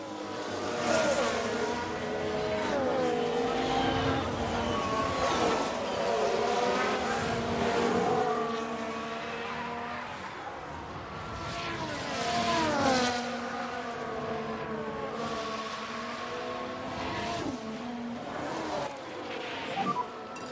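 F1 race cars in the F1 Manager 22 game at Sakhir, engines whining in a continuous high-pitched drone with several rising and falling pitch sweeps as cars pass and overtake.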